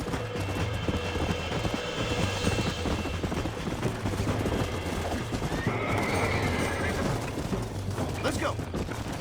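A horse whinnies amid busy background noise from the video game Red Dead Redemption, with rumbling and hoofbeat clatter, steady and fairly loud throughout.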